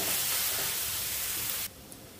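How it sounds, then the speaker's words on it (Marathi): Leafy greens with turmeric sauté in a pan, a soft even sizzle and hiss that drops abruptly to a quieter hiss near the end, no voices. "आपण छान असा पुन्हा एकदा परतवून घेऊया"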